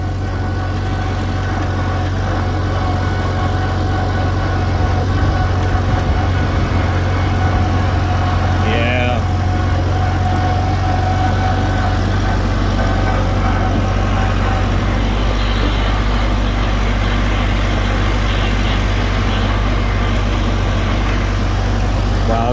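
A farm tractor's engine runs steadily, a loud low idle rumble that holds for the whole stretch with slight throttle changes, and a brief faint voice partway through.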